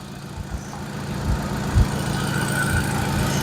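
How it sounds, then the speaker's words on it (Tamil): A Hyundai Elite i20 Sportz with a petrol four-cylinder engine idling, a low steady rumble with faint rhythmic pulsing and slight vibration, close and continuous with no talk. "இது 4 சிலிண்டர் இன்ஜினுங்க"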